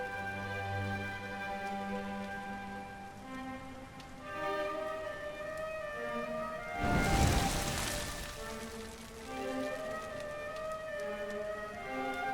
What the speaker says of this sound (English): Looks like the rain's dying down.